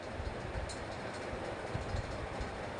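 A train rumbles along continuously, a steady low roar with faint rhythmic thumps, heard from inside a carriage.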